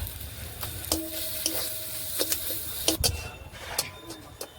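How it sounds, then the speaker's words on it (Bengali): Boiled figs, fried prawns and potatoes sautéed with spices in a pan for a kachori filling, giving a faint sizzle broken by a string of light spatula taps and clicks, with no talking. "এবার দিয়ে দেব সেদ্ধ করা ডুমুর, ভেজে রাখা মাছ, আলু একসঙ্গে ভালো করে মশলার সঙ্গে কষিয়ে নেব"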